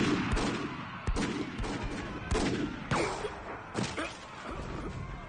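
Gunfire in a battle from the game Hakuoki: a rapid, irregular series of sharp shots and thuds crackles through a noisy background at moderate loudness, with no clear talk.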